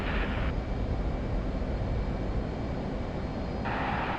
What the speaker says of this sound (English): finally we are taking off